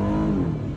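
Aston Martin DB11 engine revving loudly up close as the car pulls away, a dense continuous roar filling the short moment with no talk.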